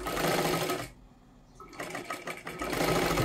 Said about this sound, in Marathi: आता बरोबर त्याच्यावरती शिलाई घ्या.